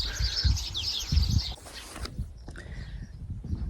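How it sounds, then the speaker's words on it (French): At the temple of Ramses III in Egypt, birds chirp and tweet in high bursts over a low rumble and thumping, then quieter scattered calls follow. "Le bruit des oiseaux"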